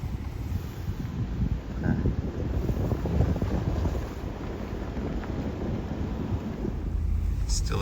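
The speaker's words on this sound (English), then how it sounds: "Still a touch of wind" Outdoors in New England, wind buffets the microphone in a continuous low rumble that stays loud and rough throughout, with little else standing out.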